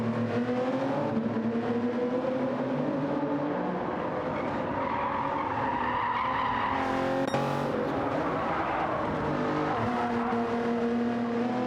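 Race car in a racing video game pulls out of the pit lane at the Nürburgring GP circuit, its engine droning steadily with rising and falling revs and tyre noise throughout, loud and continuous with no talking.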